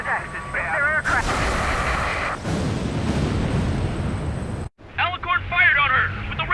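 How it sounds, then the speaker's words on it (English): Railgun fire in the Ace Combat 7: Skies Unknown video game: a loud, roaring blast sweeps through for several seconds, with radio voices talking before and after it. "Alicorn fired on her with the railguns"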